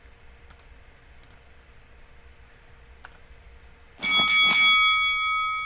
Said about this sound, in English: And that'll sound the bell.